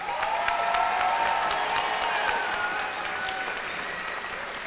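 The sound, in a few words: applause for the graduates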